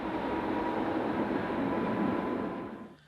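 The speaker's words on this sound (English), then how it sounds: "This locomotive, although heavily rebuilt, dates from 1953 and is one of a total of 10 which make up the fleet." A heavily rebuilt 1953 railway locomotive climbing a steep mountain line near Klosters: a loud, steady rumbling roar with a faint tonal hum, close by, fading out at the end.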